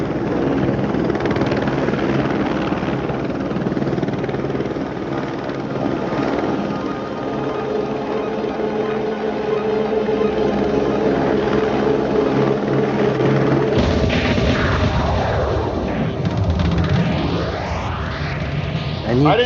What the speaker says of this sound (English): but I did see a helicopter crash